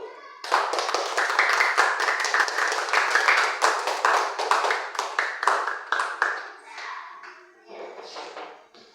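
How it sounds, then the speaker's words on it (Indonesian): Applause from a classroom of students for a student group that has just presented, a burst of many hands clapping that stays steady for several seconds, then thins out and trails off with scattered claps. "Beri aplaus dulu untuk kelompok 1."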